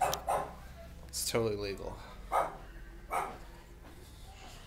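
A dog barks from somewhere outdoors near a street, one short bark standing out among faint sounds while someone talks quietly.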